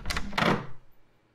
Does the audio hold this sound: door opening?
yes